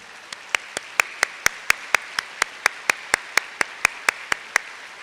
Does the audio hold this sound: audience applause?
yes